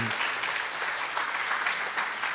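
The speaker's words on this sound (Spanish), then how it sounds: "De un aplauso al Señor por eso" A church congregation claps in broad, steady applause at a worship service, dense and continuous throughout with no voices standing out.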